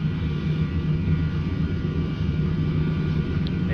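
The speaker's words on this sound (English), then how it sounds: "So thrust. Sending thrust. Thrust set." Boeing 737NG jet engines roaring at takeoff thrust, a steady loud broadband rumble with a sustained engine hum, continuous and alone without talk.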